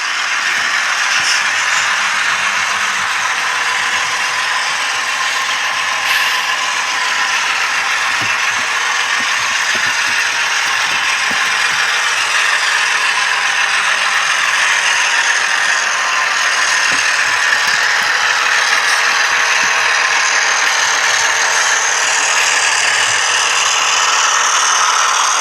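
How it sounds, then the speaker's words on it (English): A Bowser RS-3 HO model locomotive with DCC sound crawls slowly, giving a continuous bright mechanical whir and gear ratchet with faint clicks and rattles, steady and close for the whole stretch. "So I found myself in an impromptu crawl test on this engine."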